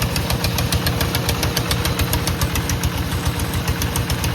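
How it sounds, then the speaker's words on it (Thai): A diesel tractor engine chugs close by at a fish pond with a fast, even knocking rhythm, loud and steady throughout. "ตอนนี้สิได้ยินแต่เสียงรถไถเนาะพี่น้อง"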